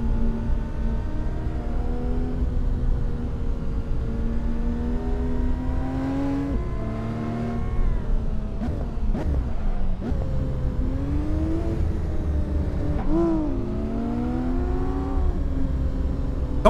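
Cars driving fast in Assetto Corsa on the High Force free-roam map around Middleton-in-Teesdale, Northern England, with a steady engine drone whose pitch climbs and drops through gear changes, plus occasional quick rising whooshes of acceleration.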